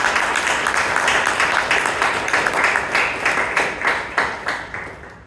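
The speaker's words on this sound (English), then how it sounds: "please give our TMOD a huge round of applause" Audience applause at a Toastmasters club meeting in Bangalore, a full, steady round of many people clapping that thins into distinct claps toward the end.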